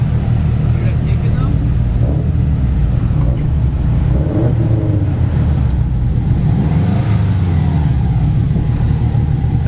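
A Ford Focus ST with a cat-back exhaust and blow-off valve runs close by, a loud steady low engine drone with slight rises in pitch, while people talk over it.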